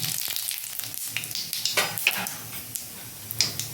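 Radhuni seeds fry in oil in a pan for shukto, a crackling sizzle with scattered scrapes and clinks of a spoon stirring against the metal, close and with no voices.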